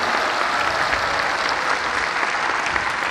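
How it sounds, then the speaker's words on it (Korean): A large audience at a religious celebration applauds with dense, continuous clapping, a loud and steady wash of many hands filling the hall, with no talking. "박수."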